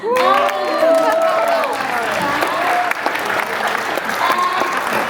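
Audience applause at a Filipino American Cancer Care Christmas gathering: loud, continuous clapping with some cheering, and voices sounding over it.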